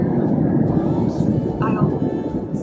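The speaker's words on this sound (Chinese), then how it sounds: "现在飞机晃得好厉害" Airliner cabin during turbulence, a steady loud broadband engine and air roar filling the space, with faint brief high tones over it and no clear voices.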